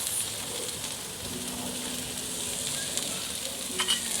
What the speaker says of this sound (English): I'm going to go ahead and add onions.